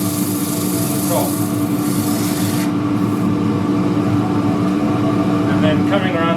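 Hand sanding a wide-rimmed wooden dish as it spins on a lathe, a constant loud rubbing rasp over the steady hum of the machine, with a voice talking over it.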